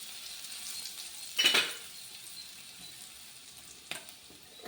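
Curry leaves hit hot tempering oil with a sudden bright sizzle that flares and then fades into a soft steady frying hiss, with a few faint clinks of a pan and utensil.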